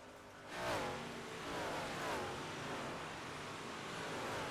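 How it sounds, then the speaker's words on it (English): Dirt-track race cars at Eldora Speedway roar past one after another, engines rising and falling in pitch as each goes by, loud and continuous with a distant crowd-and-track wash behind them. "We will take a listen as the cars come by."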